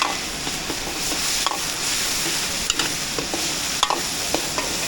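Garlic frying in a hot pan gives a continuous close sizzle, with scattered pops and stirring clicks throughout.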